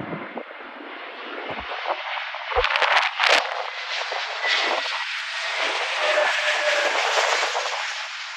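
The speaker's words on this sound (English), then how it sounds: "This is an A321neo Philippine Airlines arriving from Manila." Airbus A321neo airliner of Philippine Airlines arriving at Sydney Airport, a broad steady jet roar building and holding loud and close throughout, with brief rumbling thumps near the middle.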